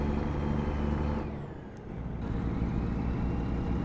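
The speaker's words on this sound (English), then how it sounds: "Truck does sound good." A Kenworth T680 Next Gen truck in American Truck Simulator drives with a steady, deep engine drone and road noise, dipping briefly in the middle before building back up.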